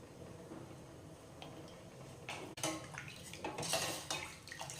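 A metal spoon clinks against a pot while rasam splashes and sloshes, close by and fairly quiet.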